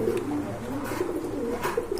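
Low, rounded pigeon coos repeat steadily and close by, with a soft background hum and a few faint higher chirps.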